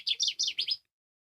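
Human whistled imitation of a bird call: five quick high chirping notes in a short burst, fairly faint and close, then silence.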